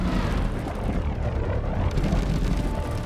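Bombs bursting in a tunnel in the video game Split Fiction, a dense, continuous rumble of loud booms and blasts with no clear gaps between them.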